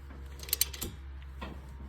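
A ratchet tightens 17 mm caliper bracket bolts during front brake work on a Toyota Camry: a few quick metallic clicks, then a softer turning sound, fairly faint in a quiet garage.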